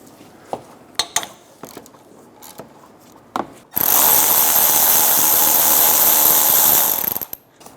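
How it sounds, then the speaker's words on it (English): A ratchet with a 10mm wobble socket on a 6-inch extension loosens a bolt on the low pressure AC line of a 2012-2016 Subaru Impreza, with scattered clicks and clanks, then a loud steady whirring run of several seconds, with no talking. "there's one 10mm bolt for the low pressure line. I'm using a 10mm on a wobble socket with a"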